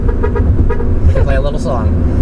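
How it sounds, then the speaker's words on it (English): Several short car horn toots pressed on the steering wheel spokes of a car, played in quick succession like a little tune, loud and close inside the cabin. "this actually has the horns in 4 different locations on the spokes of the steering wheel"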